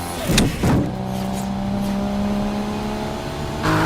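A Nissan Skyline GT-R R34 from 1998 onward, as used in a film franchise, idles with a steady engine hum after a couple of sharp revs, then a louder rev returns at the end.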